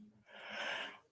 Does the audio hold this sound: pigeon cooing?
no